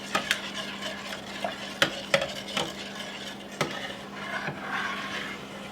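Chocolate and egg mixture being stirred quickly in a bowl for bread pudding, a steady scraping swish with sharp clinks of the utensil against the sides, close and moderately loud, no talking.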